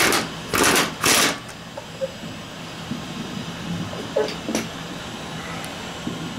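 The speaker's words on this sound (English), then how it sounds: "And I just tighten it down with an impact," An impact wrench snugs a 17 mm cam bolt on a Yamaha XT225 in two short buzzing bursts. Faint workshop clicks follow in a quiet room.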